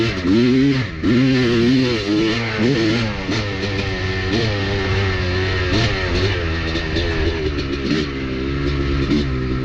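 A Honda two-stroke dirt bike engine with a modified R/C power valve, lugging just off idle in second gear with slight hesitation, runs loud and close with a steady buzzy drone and wavering pitch throughout.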